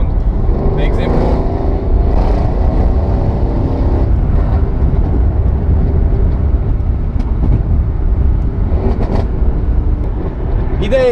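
A 700-horsepower rear-wheel-drive Mercedes C63 S pulls away hard, its loud engine roar sustained and dense throughout while someone talks over it.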